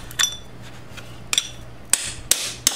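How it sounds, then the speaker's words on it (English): A hammer strikes a chisel to drive the ball bearing off the final drive of a 2002 BMW K1200RS motorcycle, giving five sharp metallic taps at irregular intervals over a low steady hum. "throw a chisel in your toolkit to remove the bearing on your final drive"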